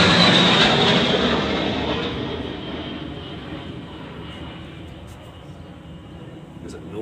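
A noisy aeroplane passes overhead as a broad roar that starts loud and then slowly recedes, fading into a softer steady drone over the remaining seconds.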